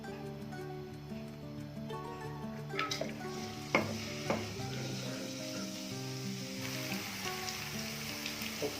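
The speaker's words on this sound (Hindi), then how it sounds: "तो अब इसमें डालेंगे लहसुन जो बड़ी बड़ी काटा हुआ था" Garlic frying in cooking oil in a wok, a steady hiss and sizzle with a few scraping stirs and clinks partway through, close and continuous.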